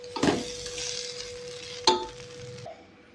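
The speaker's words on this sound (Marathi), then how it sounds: "आता आपण यामध्ये कोथिंबीर घालणार आहोत वरून, आणि याला चांगलं मिक्स करून घेऊया" Kande pohe with fresh coriander gets stirred in a pan: a soft scrape and clink near the start, a sharper knock of the spoon midway, and a faint sizzle underneath, fairly quiet overall.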